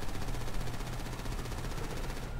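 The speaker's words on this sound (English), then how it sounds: "There's a Gutenberg Tommy gun." Tommy gun in Grand Theft Auto V firing in a dense, continuous rattling burst that stays loud and steady throughout, with no talking.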